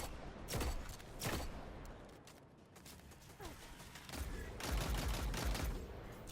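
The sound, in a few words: machine gun and arc bow fire in video game Destiny 2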